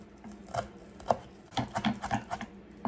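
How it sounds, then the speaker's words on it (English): A knife chops through rolled-up flat Italian parsley on a board, giving a run of close, fairly quiet, irregular taps and scrapes that quicken toward the end, with no talking. "And we're just going to chop that kind of fine like."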